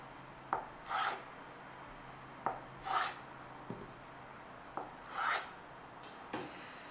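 A knife cubes a protein food on a cutting board, ahead of air frying for a stir fry. Several separate chopping strokes fall in an uneven rhythm, each a sharp tap followed by a brief rasping slice, close and fairly quiet with no talking.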